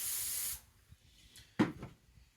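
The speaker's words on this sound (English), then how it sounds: "We're going to spray our pan down now." Cooking spray blasts from a can onto a preheated pan in a single half-second hiss, then quiet apart from a brief clatter and faint rustling afterward.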